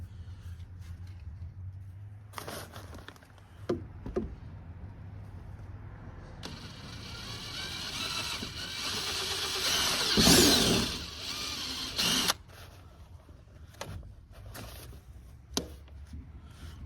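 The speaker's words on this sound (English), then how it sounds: "I'm gonna drill my hole through my plastic" A power drill bores through a plastic cover for a rain collection setup, a short whirring burst of a few seconds with scattered handling knocks and clicks before and after, fairly faint and close.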